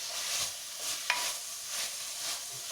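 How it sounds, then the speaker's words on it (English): Ginger and garlic frying in a pan: a faint, soft sizzling hiss with one brief click of a utensil partway through. "So it's nice to, like fry the ginger garlic and"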